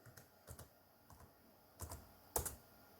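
Keys on a Toshiba Portégé M200 tablet PC keyboard are pressed one at a time, a few soft irregular clicks in quiet surroundings, with a sharper double tap near the end.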